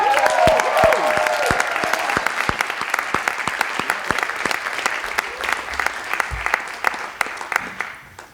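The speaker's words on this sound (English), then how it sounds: "How about one more big round of applause for everyone?" An audience at a physical therapy white coat ceremony claps in sustained applause that gradually thins toward the end, with a voice briefly heard over it at the start.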